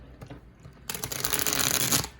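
Small tarot cards are riffle-shuffled close up: a few light taps, then a dense, crisp burst of fluttering card edges lasting about a second before it stops.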